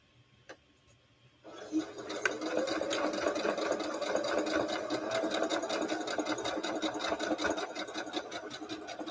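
A sewing machine stitching Christmas fabric pieces starts after a couple of soft clicks and runs in a steady, rapid mechanical whir, close and moderately loud, easing slightly toward the end.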